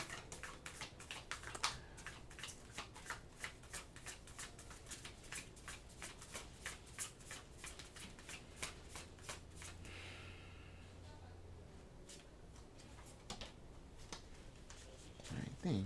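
Oracle cards riffled and shuffled by hand, a long run of quick crisp flicks that is close and steady, then a softer sliding shuffle near the end.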